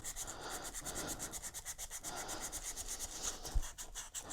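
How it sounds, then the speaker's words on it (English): Sandpaper rubs back and forth over a wooden piece by hand in quick, rhythmic strokes close to the mic, with a single sharp knock partway through. "Oh, I've sanded this thing so many times."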